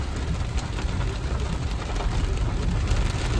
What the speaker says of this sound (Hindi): यहाँ पे मस्त वाली बारिश हो चुकी है स्टार्ट